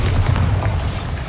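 A Bombarda explosion spell in Hogwarts Legacy lands as a loud, deep boom with a low, rumbling body that holds steady through the short moment.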